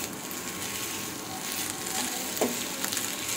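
Basmati rice for coconut rice (narali bhat) being stir-fried in a pan over a low flame gives a steady, even sizzle with faint stirring scrapes throughout, no voices.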